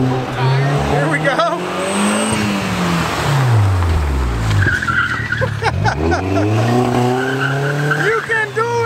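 A Porsche 944 with a five-cylinder turbo engine swap and a failing head gasket does donuts, its engine rising and falling through repeated revving sweeps while tires squeal and skid continuously, with people talking over it.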